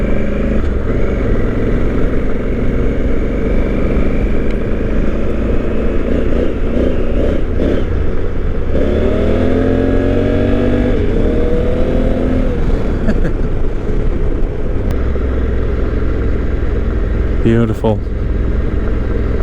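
A 2020 Honda Africa Twin adventure motorcycle cruising steadily with a constant loud engine drone and heavy wind noise, a brief shift in engine pitch midway, and a rider's voice speaking briefly over it.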